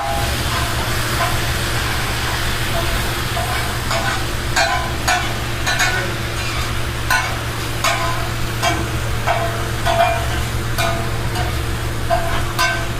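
Kolkata-style chicken roll filling fries in a hot karahi at a roll shop in Murshidabad, a constant sizzle under a steady low hum, punctuated by sharp metallic spatula clinks and scrapes.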